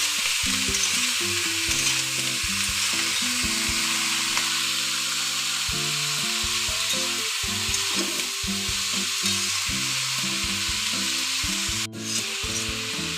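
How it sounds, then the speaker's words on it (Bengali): Spiced cabbage curry is stirred in a frying pan, a constant sizzling hiss with soft scraping, heard over steady background music. "এবার আমি এটাকে ভালোভাবে নাড়িয়ে চাড়িয়ে নেব যাতে মশলাটা পুরো ভালোভাবে মিশে যায় বাঁধাকপির সাথে"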